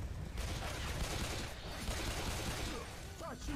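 Dense bursts of gunfire in Left 4 Dead 2 crackle rapidly and loudly, overlapping shots forming a continuous fusillade with mechanical clatter, and a voice briefly audible beneath near the end.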